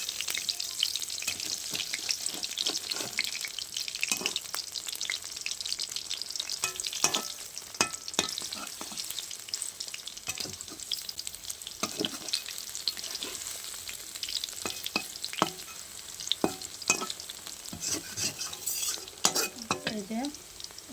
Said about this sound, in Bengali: তো আমি এপিট উপিট করে সুন্দর করে ভেজে নিচ্ছি।